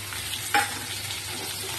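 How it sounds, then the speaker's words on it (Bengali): Potato pieces fry in a pan with a soft, even sizzle at low volume, broken once by a brief clink of a utensil midway. "আর এখানে দেখি আলুটা কদ্দূর ভাজা হলো, এক পিঠ ভাজা হয়ে গেছে"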